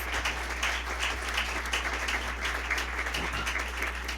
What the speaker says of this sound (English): Can we give a round of applause to our candidates?